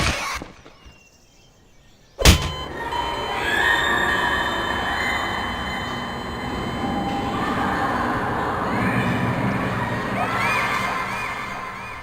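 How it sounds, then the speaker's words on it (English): Half-Life 2 sound effects play in the Construct 13 beta video game: a sharp sudden bang, then a sustained rumbling, rushing noise with rising eerie tones layered over it, loud and steady with no talking. "those two noises you heard are both sounds from Half-Life 2."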